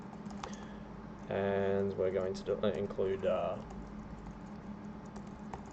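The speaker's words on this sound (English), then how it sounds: "if you see my keyboard repeatedly pressing like that, it's on its way out and it needs to be replaced" A computer keyboard with failing keys that repeat presses rattles with a quick burst of clicky typing, close and clear, under and between a man's speech.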